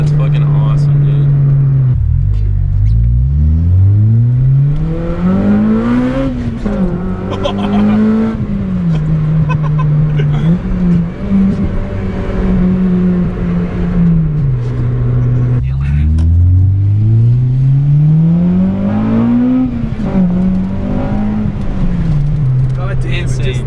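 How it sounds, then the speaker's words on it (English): A Honda Civic EP3 Type R with its muffler deleted revs repeatedly, engine pitch climbing and falling in loud, raspy sweeps close by, while people talk over it. "just the sound of it going to VTEC just cracks me up"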